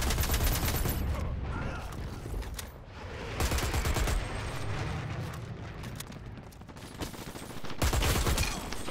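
A tank-mounted gun fires in the shooter game Dirty Bomb as loud, dense bursts of rapid gunfire and booming impacts that continue almost without pause.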